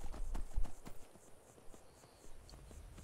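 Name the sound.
horse hooves galloping in the video game Skyrim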